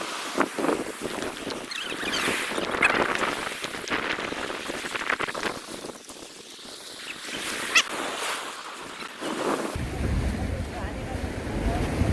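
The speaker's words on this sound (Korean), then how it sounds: "오늘 파도가 좀 있어요." Ocean waves and rushing water off Udo island, Jeju, heard during an activity boat tour on a choppy day. The splashing is continuous and roaring, with wind and boat noise throughout and a few sharp slaps of water.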